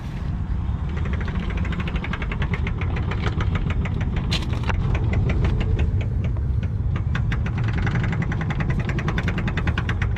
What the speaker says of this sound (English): It's really when you come over here where you hear the clunking more.